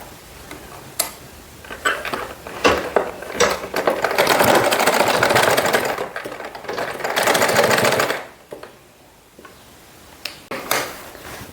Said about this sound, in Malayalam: സൂചി താഴ്ത്തി നിർത്തി നമ്മൾ തിരിച്ചിട്ട് നമുക്കിങ്ങനെ തയ്ച്ചെടുക്കാം